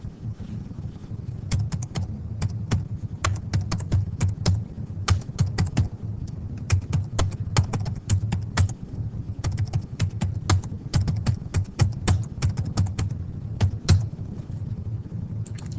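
Data entered on a computer keyboard: rapid, irregular clusters of crisp keystrokes close by, running steadily for many seconds over a low background rumble.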